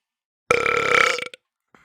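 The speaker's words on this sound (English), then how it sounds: "I marked that before I burped." A single loud, close burp lasting under a second breaks the silence, followed by a faint short sound afterward.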